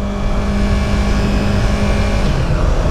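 A 2015 Yamaha R3 300cc motorcycle engine revs hard and high with a continuous, buzzy whine that holds steady close to the microphone, overlaid with a rushing wind roar.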